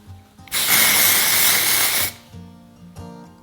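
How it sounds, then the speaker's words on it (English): A hair spray aerosol can sprays in one steady, loud hissing burst lasting about a second and a half, preceded and followed by quiet handling sounds. "So I'm just going to spray that all up in my roots."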